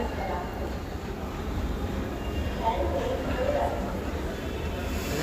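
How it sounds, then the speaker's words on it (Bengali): Steady low rumble and rattle of a metro train ride in Dhaka, continuous at moderate level, with people talking over it. "মেট্রো ট্রেনে উঠছি"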